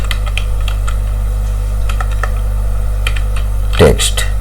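Fingers tapping out text on a computer keyboard, light clicky keystrokes in short uneven bursts over a constant low hum, ending with a louder thump near the close.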